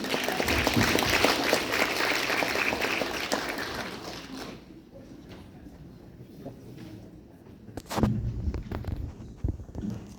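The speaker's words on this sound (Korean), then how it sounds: "박수로 모시겠습니다." Applause from an audience at an academic lecture on religious conflict fills the opening seconds, then fades to quiet room noise with a few scattered claps and shuffles before a brief louder burst near the end.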